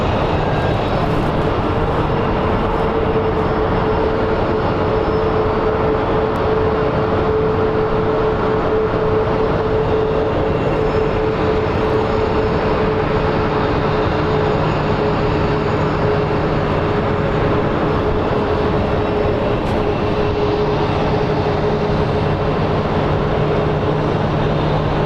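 Steady, loud jet roar of an MD-11 tri-jet airliner taxiing across the runway at a busy airport, a continuous rumble with a tonal whine holding throughout and no talk.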